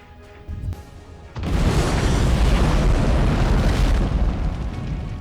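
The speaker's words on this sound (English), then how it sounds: "A second Javelin is launched, resulting in a powerful explosion captured by aerial cameras" A powerful explosion from a Javelin missile striking a tank on a battlefield erupts after a brief quieter lead-in, then sustains a loud, dense rumbling roar that does not fade for several seconds.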